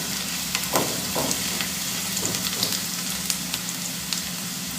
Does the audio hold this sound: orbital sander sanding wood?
no